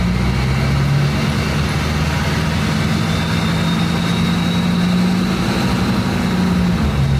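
A Hummer engine drones loudly and steadily under load, with a deep, even hum that climbs only slightly. Nobody speaks.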